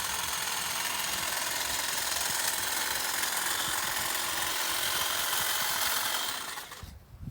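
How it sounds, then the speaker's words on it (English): A DeWALT 22-inch hedge trimmer buzzes loudly and steadily up close while cutting small bushes, then the motor cuts off and winds down near the end. "First voyage with this DeWALT 22-inch hedge trimmer."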